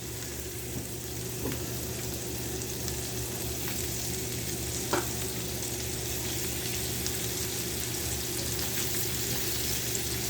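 A thick pork loin fries in hot grease with a dense, even crackling sizzle that holds steady throughout, close up and with only faint occasional ticks.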